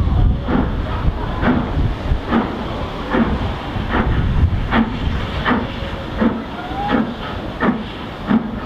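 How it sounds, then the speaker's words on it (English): A steam train pulls out of the station at a Christmas steam event, its loud, regular chuffs repeating about once a second over a constant hiss of steam and outdoor rumble. "The steam train will shortly be departing the station."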